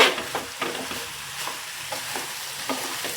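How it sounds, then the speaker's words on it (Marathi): Rice with vegetables and mushrooms sautéed in a pan, a steady close sizzle punctuated by repeated scraping stirs of a spoon against the pan at an irregular rhythm, with no talk. "आता आपण भाताला परतून घेणार आहोत. चांगलं मिक्स करूया भाज्या सगळ्या."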